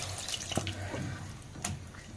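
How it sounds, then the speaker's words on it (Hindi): Water splashing and trickling into a pot, a soft running pour with a few brief splashes, fairly quiet. "पानी ऐड कर देते हैं"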